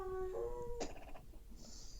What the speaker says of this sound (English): That sounds like a big hound. Yeah, he's a husky Aussie mix.